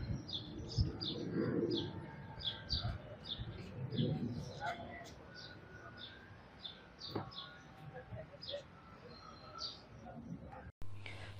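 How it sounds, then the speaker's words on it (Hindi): Birds around Manu Temple in Old Manali, with repeated bright chirps and soft low coos scattered over a quiet background, close and fairly clear, while a voice talks at moments. "यहाँ इतनी शांति है कि आपको पंछियों की आवाज़ भी स्पष्ट सुनाई देगी।"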